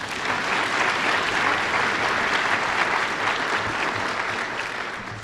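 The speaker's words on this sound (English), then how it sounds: "can give them applause." An audience at a memorial celebration of life claps in sustained, dense applause, fairly close and even throughout, with no speech over it.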